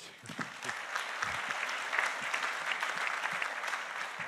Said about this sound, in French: Vous pouvez l'applaudir, oui.